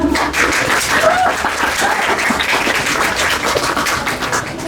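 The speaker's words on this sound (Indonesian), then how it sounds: "Aplaus untuk kita semua." An audience at an Indonesian election-literacy festival applauds in a dense, steady wash of clapping that stays loud and close for the whole stretch.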